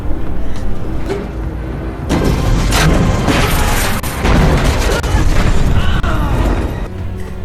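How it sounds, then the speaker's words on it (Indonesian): A loud, rumbling film explosion with crashing debris and booming bursts over roughly seven seconds, dense and sustained with a few sharp impacts. "Lalu Ibu Siti membakar saluran udara yang terkontaminasi gas itu sehingga membuat ledakan dan mengenai Ucok sehingga terpental"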